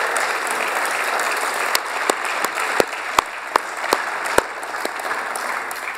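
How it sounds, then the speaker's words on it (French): An audience at a 2015 startup contest finale applauds startup finalists, sustained clapping from a crowd with sharp individual claps standing out now and then. "Merci de les applaudir, leur réserver un tonnerre d'applaudissements quand ils monteront sur scène"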